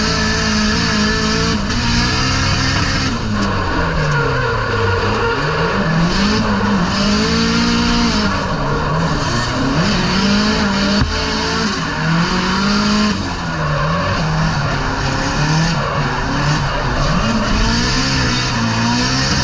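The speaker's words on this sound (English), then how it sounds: "Age has lost the bumper on the limiter" Drift car in a rain-soaked battle event, its engine screaming on the rev limiter in long, loud, wavering bursts, with tires squealing and crowd noise beneath, with no talking.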